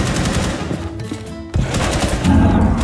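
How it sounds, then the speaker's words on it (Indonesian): Rapid automatic gunfire in Rainbow Six Siege, loud close bursts of shots with a short pause near the middle before firing resumes. "Gua tembak"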